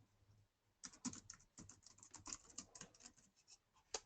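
Someone types on a computer keyboard, a quiet, close-up burst of rapid, irregular key clicks that starts after a short pause and continues with uneven gaps, ending on a single firmer tap.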